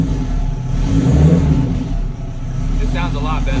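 A turbocharged Honda K20/K24 engine tuned with KPro revs up and settles in a mid-pitched rising and falling engine note, heard close while people talk over it.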